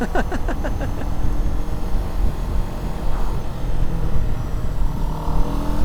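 A Kawasaki Z7 Hybrid motorcycle's engine pulls hard at higher RPMs, a steady loud drone with rising harmonics early on that settles into a continuous rumble, recorded close up with wind noise and no talk.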